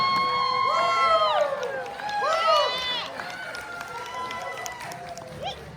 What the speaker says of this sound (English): You need to keep cheering because Countess Chaos is having trouble counting to 4.